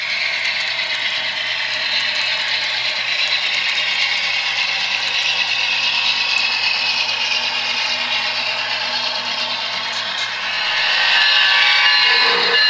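Amtrak 188 West passenger train on the Chicago run, a steady metallic clatter and grinding of wheels on rails running throughout, close and loud, swelling slightly near the end.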